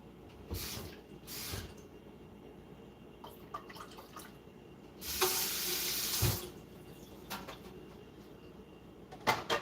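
A kitchen tap runs in bursts while water is added to oats, with short splashes early on and a louder, longer gush in the middle, plus faint drips and cupboard knocks between.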